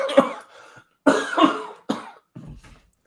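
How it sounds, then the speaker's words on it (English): A few sharp coughs from a game show contestant, three loud bursts close together, the last one fainter and rougher. "I can't tell if that was a fake cough or a real cough."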